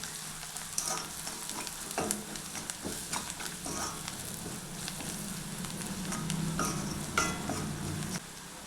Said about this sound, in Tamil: சேர்த்துட்டு நல்லா அதை வதக்கி விடுங்க